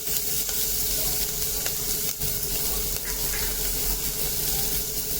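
Cabbage, green peas, capsicum and carrot sauté in a pan for jowar soup, giving a continuous close sizzle with scraping stir sounds throughout.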